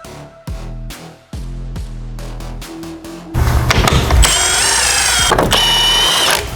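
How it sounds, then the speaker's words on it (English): A T40 Torx bit on a power tool removes a bolt holding the plastics on a Polaris RZR Pro XP, with a series of short, loud buzzing bursts followed by a longer sustained whirring run. "we have a T40 Torx bit to take off this bolt holding the plastics on"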